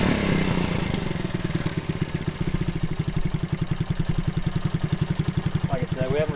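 A 1971 Honda CB100 motorcycle with a 6-volt system idles while warming up from a cold start, its engine loud and close, thumping in a rapid steady rhythm with a brief throttle change near the end.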